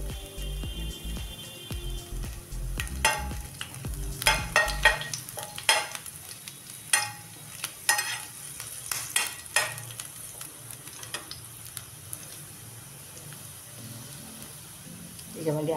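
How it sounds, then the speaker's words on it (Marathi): Garlic frying in a pan for homemade momos, with a soft sizzle under repeated scraping and clinking stirs, close by; a low hum and faint music underneath. "आपण लसण टाकून घेऊ. लसण हलकंसं होऊ देऊ आपण."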